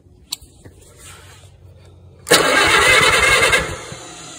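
A few faint clicks and a quiet whir, then an Allis Chalmers WD45 tractor engine turns over loudly with a rhythmic chugging that runs steadily for over a second before fading.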